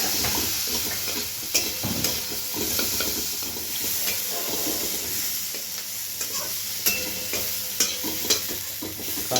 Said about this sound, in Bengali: আর এটাকে ভালো করে কষবো প্রথমে, যাতে মশলার কাঁচা মশলার গন্ধটা না থাকে